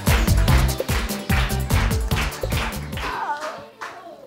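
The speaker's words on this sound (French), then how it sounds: "On l'applaudit encore." An audience applauds a singer, loud rhythmic clapping that fills the first three seconds, then thins into scattered claps and a few voices.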